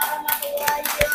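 A brief burst of hand clapping from an audience at a school teachers' competition in Kuningan, a short, fairly close patter of applause for a student group.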